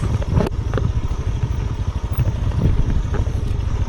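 A motorcycle descends a steep, slippery trail, its engine rumbling low and uneven with rattling clatter from the rough ground, close and fairly loud throughout.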